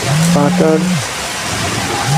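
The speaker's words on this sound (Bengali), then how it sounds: "বৃষ্টি তো শুরু হয়ে গেছে" Rain falls steadily across a city under a white, overcast sky, a continuous broad hiss with a voice talking over it at the start and again at the end.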